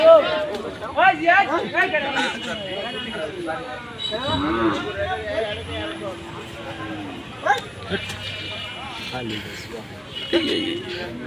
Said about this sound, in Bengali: এই সেই দেশি গরু,